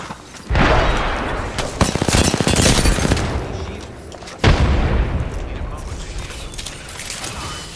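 Grenade blast and heavy gunfire in an Apex Legends firefight, a loud boom near the start and another sharp blast midway amid rattling weapon fire and mechanical clatter, with voices over the action.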